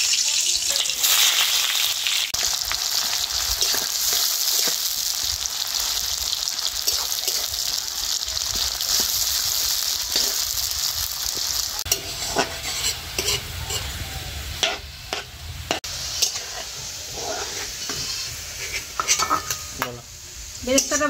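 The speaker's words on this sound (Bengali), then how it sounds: "প্রথমে কড়াইতে তেল দিয়ে বেরেস্তাটা ভেজে নেব।" Sliced onions crackle and sizzle steadily in hot mustard oil in a wok, browning for crisp fried onions, with repeated stirring scrapes through the continuous hiss.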